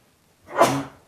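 A single sneeze, close and fairly loud, rising quickly and trailing off, with silence before it.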